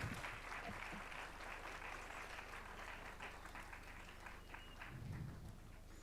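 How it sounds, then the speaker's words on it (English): Audience at a law college annual day applauds steadily throughout, a dense sustained clapping from a large crowd with a few low thumps. "Let's have a huge round of applause."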